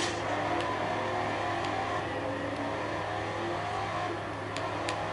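A Cuda's engine drones steadily while racing in Forza Horizon 2, a constant, loud, even roar with little change in pitch and no speech.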